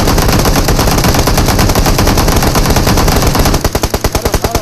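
Loud, dense automatic gunfire in the mobile game PUBG Mobile, a sustained roar of rapid shots that breaks into distinct evenly spaced bursts toward the end, with no talking.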